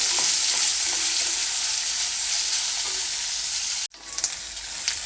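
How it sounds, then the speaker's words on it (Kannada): Finely chopped onions fry in a pan with a steady, close, broadband sizzle that runs unbroken, then cuts out briefly before resuming more softly. "ಇವಾಗ ನಮಗೆ ಈರುಳ್ಳಿ ಸ್ವಲ್ಪ ಫ್ರೈ ಆಗಿದೆ"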